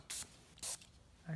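Two short hissing sprays of CA glue activator onto a carbon speaker cone during a recone, each burst about a sixth of a second and spaced apart, close and soft, with a faint thin tone near the end.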